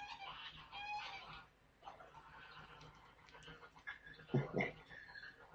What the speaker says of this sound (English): the chickens have been doing my head in this morning